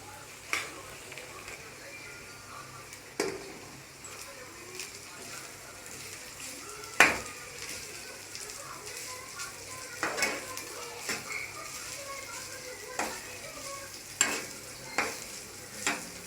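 A spatula stirs gobi fried rice with cauliflower in a pan, giving soft scraping and an intermittent clink of metal against the pan over a faint, steady sizzle.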